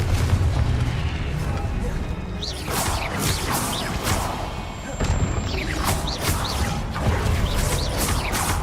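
Confringo blasting curse explosions in Hogwarts Legacy, a series of loud booms and crackling bursts repeating every second or so over a rumbling game background, with character voices calling out between blasts.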